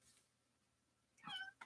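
A pet cat gives a short meow, faint at first and then a clearer cry near the end against a quiet room.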